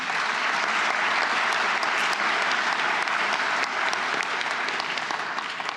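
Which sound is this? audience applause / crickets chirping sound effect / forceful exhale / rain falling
audience applause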